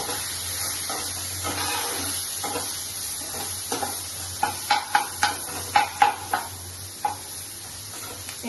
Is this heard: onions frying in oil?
yes